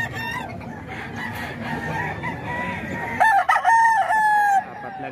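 Rooster crowing at a cockfighting derby, one loud, close, drawn-out crow rising over a busy background of other fowl calls and crowd murmur.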